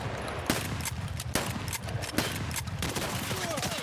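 Gunfire crossfire in a video game trench fight: sharp repeated shots crack at a steady loose rhythm, with a few louder bursts standing out over a busy rumbling battle bed, and faint voices mixed underneath.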